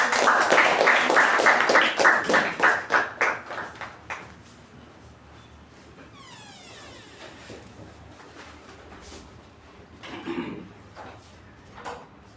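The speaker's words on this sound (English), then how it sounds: "So let's give Toastmaster Apoorva a huge round of applause." A huge round of applause from the audience at a Toastmasters club meeting, dense clapping for about four seconds that then thins to a few scattered claps.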